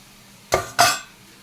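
Two sharp metal clinks sound close together as fried potato pieces are lifted one by one from a frying pan, with quiet background noise between them.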